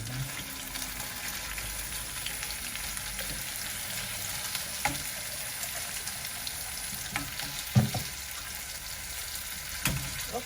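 Pork loin fries with tomatoes in a pan, giving a constant soft sizzle. Occasional stirring clinks and scrapes sound close by.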